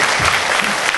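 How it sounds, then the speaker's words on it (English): A short, loud burst of crowd applause for a volunteer at a stage magic show, dense clapping filling the whole moment. "give Lisa a round of applause"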